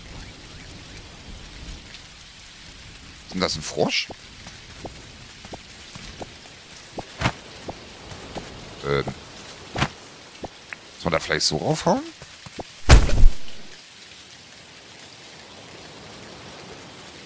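Rain falls in the video game Dinkum as a soft steady hiss, with a few sharp cracks and a loud crash near the end like thunder, while someone talks over it.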